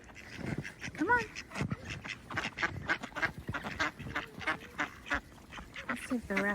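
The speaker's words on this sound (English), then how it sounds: "We usually have about 40 ducks." Farm ducks quack repeatedly on a snowy mountain homestead in North Carolina, close and lively, mixed with a dog's panting and a person speaking over the calls.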